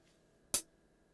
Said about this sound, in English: it is a closed hi-hat sound. And it also came from the EMU percussion module